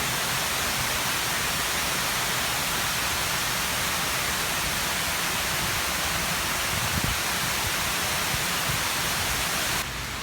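Loud rushing water pours steadily down a huge wall fountain, a dense, constant roar with no breaks, close and alone.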